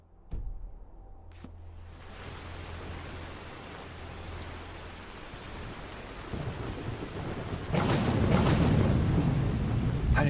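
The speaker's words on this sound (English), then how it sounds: "We ended last stream in the middle of a thunderstorm." Thunderstorm in the video game Skyrim: steady heavy rain hiss throughout, with a sharp thunder crack near the start, a low rumble fading away, and a louder burst of rain and thunder toward the end.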